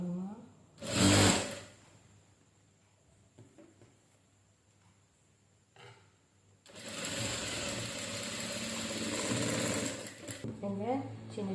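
A sewing machine stitching a saree blouse runs in two bursts, a short loud whir near the start and a longer steady run later, with someone speaking in Tamil during the pause between them.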